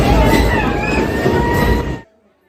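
A passenger train runs near Dudhsagar waterfall, heard from inside a crowded carriage as a loud, steady rumble with voices mixed in, before the sound cuts off abruptly near the end.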